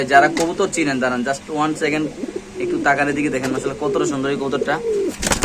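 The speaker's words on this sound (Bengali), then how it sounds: "এখানে আছে আরেক জোড়া কবুতর" Fancy pigeons at a pigeon farm cooing in low, throaty bursts close by, while people talk over and between the calls.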